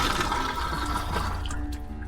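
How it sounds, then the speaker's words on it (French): Toilet flushing in a rented camper van, a steady broadband rush of water running for about two seconds and tapering toward the end, close and fairly loud with no talk. "Voilà, un petit coup de chasse d'eau."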